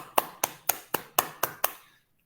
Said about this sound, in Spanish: Gracias, profesor Marco. Un aplauso